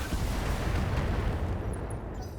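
Artillery fire from a precision strike in the BattleTech video game, a dense, sustained low rumble of booms and bursts close and loud, filling the clip with no voices.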